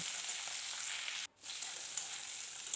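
Cauliflower florets frying in a pan give an even, continuous hiss of hot oil, briefly cutting out in the middle before resuming, fairly quiet and with no voices.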